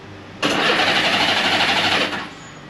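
A Honda Goldwing motorcycle engine cranks over on its electric starter with a fresh battery, a loud, steady whirring spin lasting under two seconds before it cuts off.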